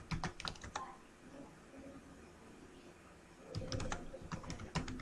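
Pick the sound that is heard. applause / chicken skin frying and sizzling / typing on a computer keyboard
typing on a computer keyboard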